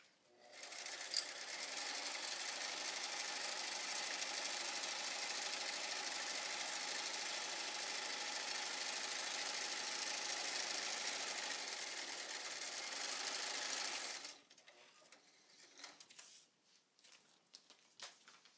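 Sewing machine stitching fabric, a steady close mechanical whir running for about fourteen seconds before stopping, followed by light handling noises as the fabric is pivoted.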